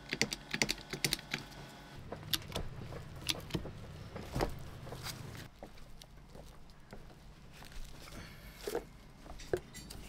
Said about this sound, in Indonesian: Sekarang kita waktunya untuk menggunakan crimper hidrolik seperti ini